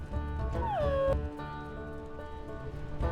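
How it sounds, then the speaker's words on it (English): A wolf howls in the video game Wildfire Legacy, a single rising-then-falling tone that cuts off abruptly, over a steady ambient game soundscape with low rumbling background. "Oh, somebody's trying to howl"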